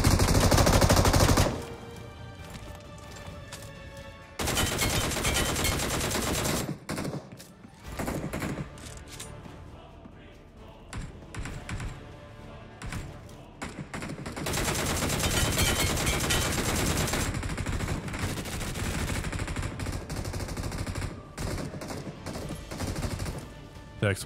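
Bursts of automatic fire from a DP light machine gun in the mobile shooter PUBG Mobile, Metro Royale mode, come in several long rattling volleys separated by short pauses, loud and close, with no talk.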